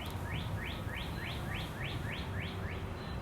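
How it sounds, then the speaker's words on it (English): Birds sing overhead in a steady, repeating run of about nine bright chirps, clear and evenly spaced above a low, constant background rumble. "The birds sing and call above me, but their melody has no tune."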